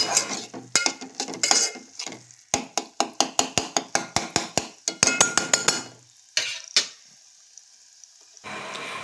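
A spoon stirs egg tomato curry in a metal pan: a quick series of sharp clanks and scrapes against the pan over a soft sizzle, pausing briefly near the end.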